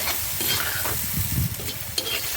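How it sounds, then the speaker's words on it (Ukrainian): A spoon stirs mushroom soup with vermicelli in a pot, making soft scraping and swishing strokes over a light background simmer, with a few small clinks against the pot. "Перемішуємо."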